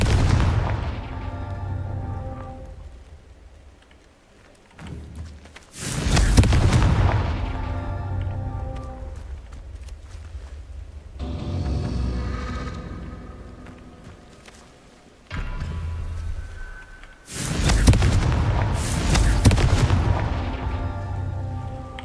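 Repeated Confringo blasting spells exploding in Hogwarts Legacy, several loud booming bursts with crackling debris separated by quieter stretches, close and heavy, with no speech.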